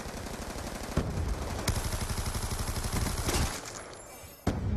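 Rapid automatic gunfire in the first-person shooter Black Ops II, a loud sustained stream of shots punctuated by a few sharper, heavier cracks, with a brief lull near the end before a final blast.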